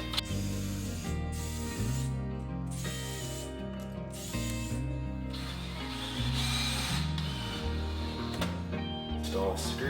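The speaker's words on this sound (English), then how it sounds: "Pre-drill all these holes." A power drill pre-drills holes for a sliding plywood door track, its motor whining through repeated short bursts that rise and fall in pitch as the trigger is squeezed and released.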